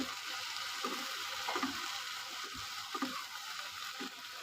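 Okra sizzling gently in a pan with turmeric powder and a chili, a soft steady hiss with occasional small clinks of stirring, fairly quiet and close.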